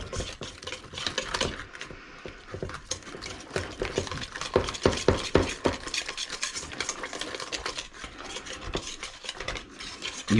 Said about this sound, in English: Then we're just going to whisk everybody together.